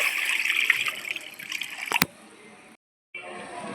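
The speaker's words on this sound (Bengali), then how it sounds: "কড়াইতে আমি জল দিয়ে দিচ্ছি" Water is poured into a wok-style kadai set on a lit stove, making a close, bright splashing pour that stops abruptly, followed by a brief silence and faint room sound.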